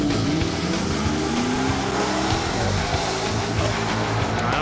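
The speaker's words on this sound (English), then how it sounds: "Spinning the wheels a little bit there, but then all of a sudden doing good at the big end of the track" An LS-powered Pontiac Trans Am drag races down the strip with its wheels spinning, a loud, continuous engine roar with rising revs throughout.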